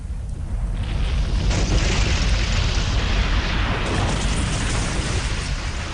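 A continuous, loud roaring rumble like an explosion or fire burst from water and gas mains ruptured in an earthquake, sustained and dense for the whole stretch with no speech.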